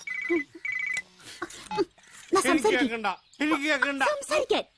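A telephone rings in two short electronic trills at the start, followed by people talking in a Malayalam comedy film scene.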